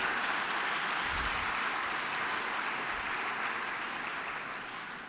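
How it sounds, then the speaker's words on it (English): At an evening lecture event in an art collection, an audience gives the staff steady, full applause that holds evenly and then eases slightly toward the end. "So a round of applause for all the hard work they've done."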